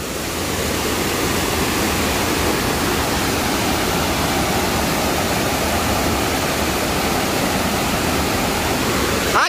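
Torrent of floodwater pouring through a burst dam, a loud, steady broadband roar with no breaks, close and continuous throughout.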